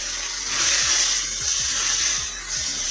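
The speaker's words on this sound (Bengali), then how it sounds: "তেলটা আমার গরম হয়ে গেছে, এবার আমি মাছটা ছেড়ে দিচ্ছি।" Fish pieces fry in hot oil for a Bengali mustard-paste snakehead fish dish, giving a steady, loud hiss and crackle close by, with no talking.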